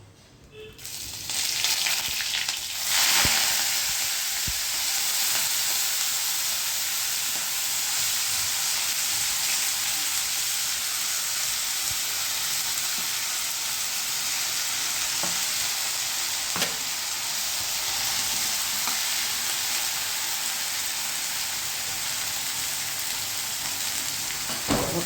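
Cumin, mustard seeds and asafoetida crackle in hot oil for a Gujarati tempering, a loud, steady sizzle with spits and pops that carries on without a break and with no voices over it.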